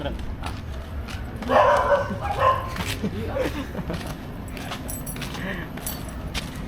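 A dog barks and yips a few times at moderate distance during a late-night gathering, with jangling keys and background chatter from people talking.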